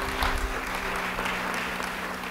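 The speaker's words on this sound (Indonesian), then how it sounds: "Yang percaya beri tepuk tangan buat Tuhan." A church congregation applauds during a sermon, a steady wash of clapping held at an even level throughout, with a low hum running underneath and no talk over it.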